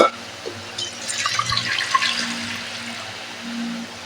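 Lime water is poured off soaked ash gourd pieces for a sweet preserve, a close, splashing gush of draining water that swells and trickles for a few seconds with no voices.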